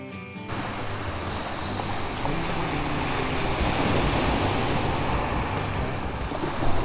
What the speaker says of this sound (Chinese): 现在在大武的海边